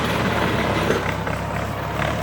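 A Ford 6610 tractor clearing and ploughing a field, its diesel engine rumbling steadily and loudly up close with mechanical clatter and no pauses.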